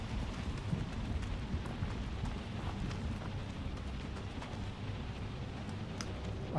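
Storm rain in the video game Outlast 2, a dense, continuous roar of heavy downpour with a low rumbling undertone and faint scattered patters, steady and enveloping with no voices.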